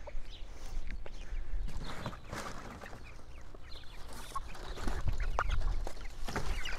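Ducks quacking in short bursts close by in a coop, several calls scattered over a noisy background with some rustling.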